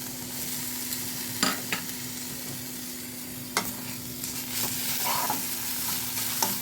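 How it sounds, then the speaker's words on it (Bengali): Kharkol leaf paste stir-fried with mustard paste and grated coconut, a steady sizzle over a low hum, broken by several sharp clanks and scrapes of a spoon against the pan. "তোমরা খারকুল পাতা বাটা করে নাড়া করো, স্টির ফ্রাই করলেই হবে"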